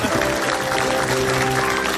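Studio audience applause on an Indonesian comedy talk show, a dense, steady wash of clapping lasting about two seconds, fairly loud and continuous.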